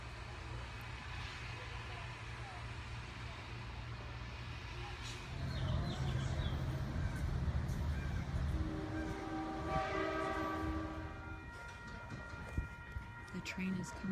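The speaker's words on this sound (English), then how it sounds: "The train is coming." An approaching train rumbles in the distance and grows louder, its sustained horn tones sounding midway, while people talk nearby.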